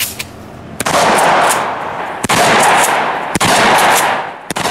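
Loud gunfire from a weapon ejecting brass comes as long sustained bursts of rapid shots, cut by a few sharp single reports between the bursts, close and dominant with no voices.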